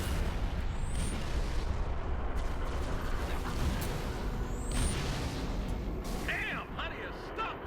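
Artillery fire in the video game Halo: Reach, with heavy rumbling booms and blasts rolling under a dense battle din, a couple of whistling rounds streaking overhead.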